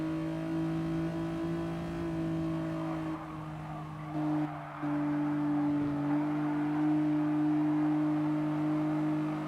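Race car engine in Gran Turismo Sport holding a steady high drone while overtaking off the track on grass, briefly dipping in pitch before surging again, loud and close with no talk.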